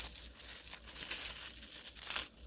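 A thin plastic sheet is peeled off evenly rolled, thin dough, giving a close, steady crinkling and rustling that swells and fades over a couple of seconds.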